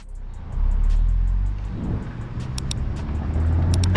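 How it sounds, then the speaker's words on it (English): Car making a short pull in first gear, filmed from a third-person 360 selfie-stick mount: a swelling engine rumble rises after half a second and holds steady, with faint road noise and a few sharp high ticks near the end. "Here you can see me do a small pull in first gear"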